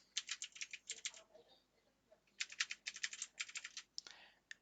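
Password being typed on a computer keyboard while adding an email account in Outlook: quick bursts of close, crisp key clicks in two clusters separated by a short pause, with no talking.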